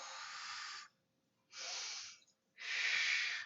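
Three long, airy breaths during a mat Pilates exercise, each lasting close to a second with short silences between, the last the loudest; near and clear, with no talking.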